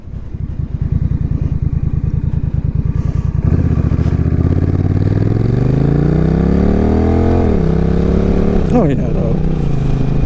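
Honda Rebel 1100 motorcycle engine, close and loud, chugging at a low idle before the throttle opens into a rising, sustained rev that holds, then drops, with a brief spoken remark.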